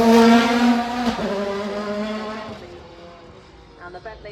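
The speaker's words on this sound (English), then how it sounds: "This is the Bentley Speed 8, David Brabham behind the wheel." A Bentley Speed 8 Le Mans prototype racing past at the Goodwood Festival of Speed, its engine a loud, close, harmonic roar that drops in pitch and fades as it moves away, with voices talking over it.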